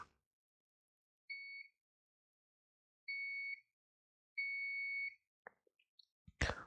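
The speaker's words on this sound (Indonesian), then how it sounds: "begitu kabel ini saya sentuhkan, maka buzzernya langsung menyala" Three clean electronic buzzer beeps, short then longer, from the continuity tester of a Taffware ST202 digital clamp meter, sound in a quiet room, followed by a few soft clicks and a clatter.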